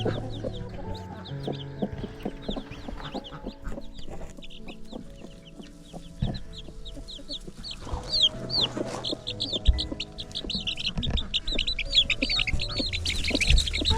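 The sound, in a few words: hen and baby chickens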